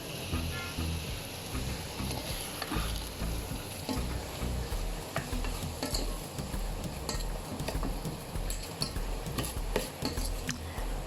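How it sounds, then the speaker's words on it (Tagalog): Vegetables for salmon head sinigang sauté in a pan with a steady sizzle and crackle, close by, broken by frequent clinks and scrapes of a utensil stirring. "But for this one, we sauteed the veggies."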